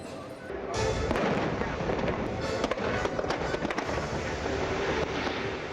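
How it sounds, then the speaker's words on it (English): Fireworks spectacular over the lagoon at Walt Disney World, a continuous dense crackle of bursts and pops at a distance, with a steady roar and occasional sharper reports. "there's a fireworks spectacular over the lagoon called Illuminations"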